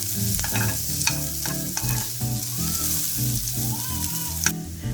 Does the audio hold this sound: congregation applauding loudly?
no